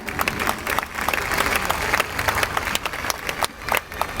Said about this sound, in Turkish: Herkesin çok alkışlayacak.